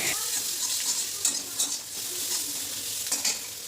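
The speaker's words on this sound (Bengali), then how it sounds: "প্রথমে আগে কড়াইতে একটু বাটার দিয়ে দিচ্ছি আর তারপর কিন্তু সাথে সাথে দিয়ে দিতে হবে পেঁয়াজ কুচি পেঁয়াজ কুচিটা দেওয়ার পর একটু ভালো করে ভেজে নিতে হবে" Chopped onion sizzles and fries in butter in a pan, with steady crackling broken by several louder bursts of stirring and scraping against the pan. No one speaks.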